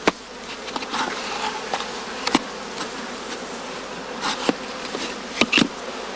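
Honeybees from a cast swarm buzz steadily in a box at a heathland bee farm, a dense continuous hum with individual bees droning close by in brief louder passes.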